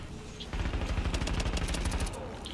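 A sustained burst of rapid machine gun fire in The Division, steady and fast for about a second and a half, with a faint voice in the mix.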